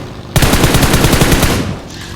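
A single sustained burst of automatic gunfire in a shooting video game, loud and close, rattling rapidly for over a second before cutting off.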